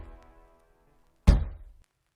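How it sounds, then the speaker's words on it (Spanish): A single firm knock lands on an old, faded oak door, a short close thunk that rings briefly in an otherwise quiet space. "llamaron con delicadeza a la descolorida puerta de roble"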